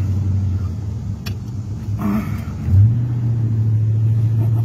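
A 1969 Ford Mustang Mach 1 engine idling with a deep, steady rumble while reversing, then rising briefly with a rev as the car gets moving.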